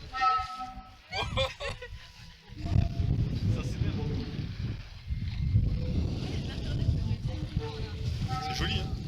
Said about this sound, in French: le vent s'engouffre dans les rainures, et ça fait des notes différentes